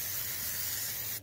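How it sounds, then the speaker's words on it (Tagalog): Olive oil sprayed from a can onto a raw whole chicken before air frying: one continuous close hiss lasting just over a second that cuts off sharply at the end. "lagyan lang na natin ng spray lang natin ng olive oil"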